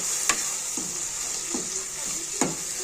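Green chillies frying in hot oil, a steady bright sizzle close by, with a few soft stirring knocks and scrapes against the pan.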